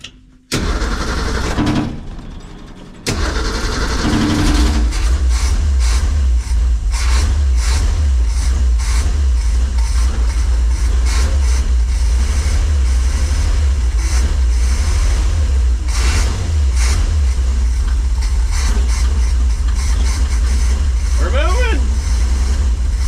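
A 1963 Ford Econoline van, revived after three years of sitting, cranks and starts, then runs steadily with a loud, close, continuous engine drone as it pulls out for a lap, with brief talk early on.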